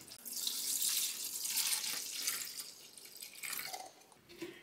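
Water poured into a smart pet fountain makes a steady splashing, trickling rush that tapers off near the end, close and fairly quiet with no talking.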